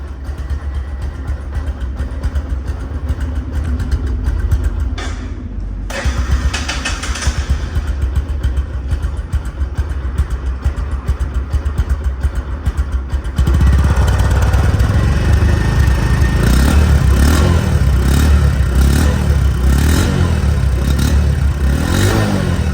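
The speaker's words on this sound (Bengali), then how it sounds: "তো এই বাইকটির সাউন্ড কোয়ালিটি শুনুন সাউন্ড কোয়ালিটি শুনলে বুঝতে পারবেন" A 2024 Bajaj Discover 125cc motorcycle engine runs close up, a steady loud idle with a brief dip around five seconds, then a louder, heavier rumble in the second half, with no talk.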